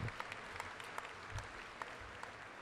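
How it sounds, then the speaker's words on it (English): Crowd at a community college commencement applauds in a dense, steady patter of clapping with a few louder individual claps standing out. "Let's give them a round of applause."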